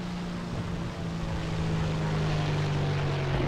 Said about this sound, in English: That's an airplane. That's a friendly airplane.